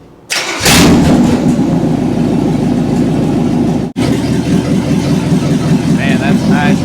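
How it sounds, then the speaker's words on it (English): A 1962 Chevrolet Bel Air wagon engine cranks, catches and settles into a loud, steady near idle, with a brief dropout midway and voices faintly over it. "Man, that's a nice running motor."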